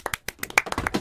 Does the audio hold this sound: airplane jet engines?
no